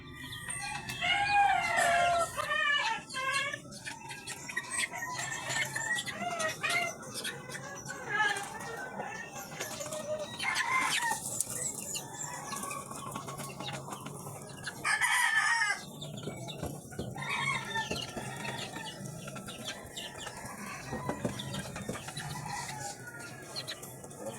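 Roosters and chickens cluck and crow repeatedly, close by, several birds at once, with scattered rustling in the background and someone talking intermittently.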